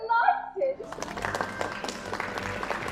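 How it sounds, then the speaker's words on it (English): Crowd applause fills a theatre as an audience greets the president at Ford's Theatre, a dense wash of clapping rising after a brief opening tone and holding steady and loud to the end. "The crowd applauds the president."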